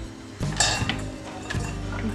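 Dried fruits for an eggless, non-alcohol plum cake dropped one at a time into a bowl, giving a few soft clinks and taps against the dish over a quiet kitchen background.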